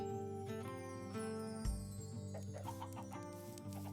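Chickens cluck softly over a steady background of music, with a brief low thump partway through and scattered bird calls near the end.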